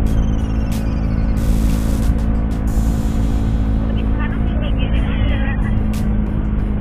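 A truck drives a steep climb on Sumatra's eastern highway, heard as a steady, loud engine drone with some clicking and static-like noise and occasional voices in the background.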